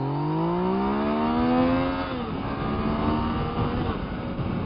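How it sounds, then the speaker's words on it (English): A 2015 Yamaha FZ-09 motorcycle pulling hard in second gear, its engine note climbing steadily in pitch to a loud rev, then dropping back and settling into a steady drone, with wind noise and no talking. "Second gear, I cracked it a little bit, and the front wheel started to drift off the ground already."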